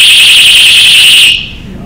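A personal safety alarm device shrieks with a loud, piercing warbling tone close by, holding steady for over a second before cutting off abruptly, leaving quiet room noise.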